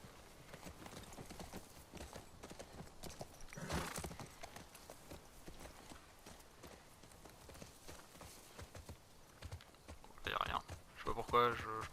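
Horse hooves clip-clop in a video game, a quiet, steady run of hoofbeats with faint background noise and a few louder bursts near the end.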